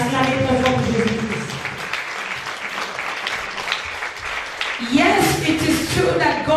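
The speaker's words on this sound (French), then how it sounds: "Put your hands together for Jesus Christ." A worship audience claps and cheers loudly for Jesus Christ, a sustained wash of applause with a voice speaking over it at the start and again near the end, where the clapping swells.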